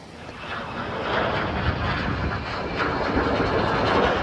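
An F-35 jet from Tyndall Air Force Base passes overhead as a broad rushing roar that swells slowly and stays loud for several seconds, heard at a distance with no talking.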